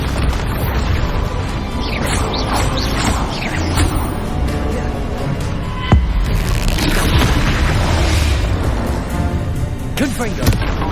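Repeated Bombarda blasting-spell explosions in Hogwarts Legacy boom heavily one after another amid crashing debris and combat noise, with a voice present through the din.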